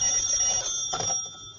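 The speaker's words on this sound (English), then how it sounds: "The phone's ringing." Old-time radio telephone ringing effect in a home, a steady continuous bell tone with a brief overlapping sound partway through.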